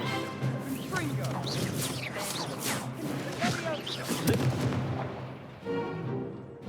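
Confringo blasting spells exploding in Hogwarts Legacy, a rapid run of loud booming and cracking blasts that fills the whole stretch, with game voices and chatter mixed underneath.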